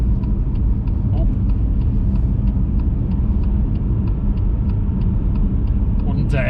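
A BMW M2 Competition on the road, its engine a steady loud low rumble inside the cabin with a faint regular ticking above it, then a brief sharp noise at the end.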